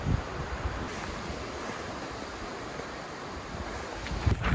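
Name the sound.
flowing water at a trail water source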